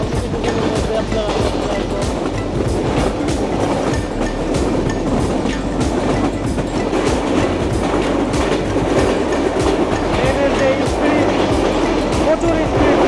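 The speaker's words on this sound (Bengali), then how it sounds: "প্রচুর স্পিড ট্রেনে, মারাত্মক স্পিড ট্রেনে।" The Simanta Express train runs at high speed with a loud, continuous roar of wheels and a rapid clickety-clack of rails, heard from inside the coach, steady and dense all the way through.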